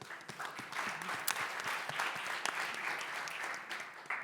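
An audience at a startup reverse-pitching event gives a round of applause for a mentor, with dense, uneven clapping from many hands at a moderate distance, fairly quiet overall.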